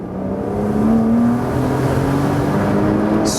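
A Porsche Boxster S sports car pulls hard in second gear, its engine note rising steadily in pitch under load, loud and close throughout.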